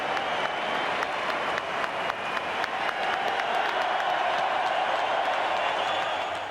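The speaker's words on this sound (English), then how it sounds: "The crowd rises as one." Stadium crowd at a rugby match applauding and cheering after a Wallabies win, a dense, continuous wash of clapping with sharp individual claps standing out, loud and sustained throughout.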